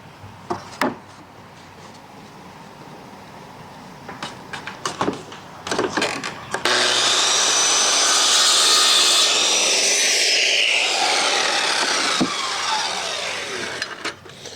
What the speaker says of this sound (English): I was using my solar generated, my little solar generator, the 12-volt battery, to run that circular saw